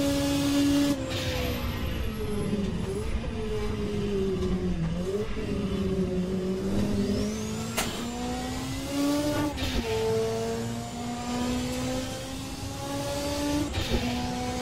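Ford race car engine roaring under hard acceleration while overtaking a BMW, a loud continuous drone with pitch rising through the gears and dropping at shifts, steady and close throughout.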